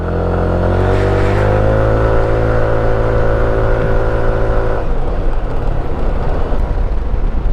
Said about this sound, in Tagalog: Pero kaya pa naman ang motor.